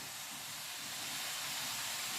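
Bacon sizzling in a pan while cooking a budget hotpot with baked beans, a steady close crackling hiss with no voices.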